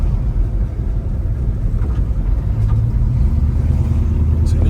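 A Chevy with a 350 engine drives along at low speed, its deep rumble and road noise steady and loud throughout.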